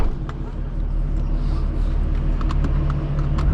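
Inside a straight-piped BMW M4 G82 on the road, a low droning exhaust and engine rumble holds steady, with light clicks and small sounds from the cabin over it.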